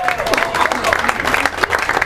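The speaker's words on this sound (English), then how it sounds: "That's okay to applaud at any time." Applause from an audience at a farewell event for John and Vicki, a steady, dense patter of clapping filling the room with some crowd murmur mixed in.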